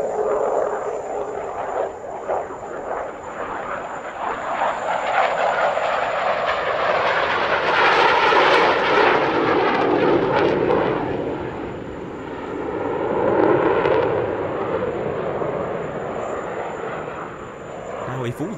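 A jet aircraft flies an airshow display at Dubai with colored smoke and little afterburner, its engine roar swelling and fading as it passes, heard loud over the whole stretch.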